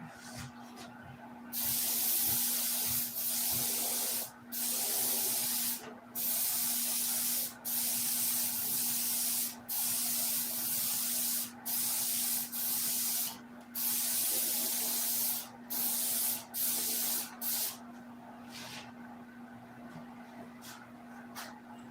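Clear coat paint sprays from a spray gun in a long run of steady hissing bursts, each a second or two long with brief pauses between, close and fairly loud against a constant low hum.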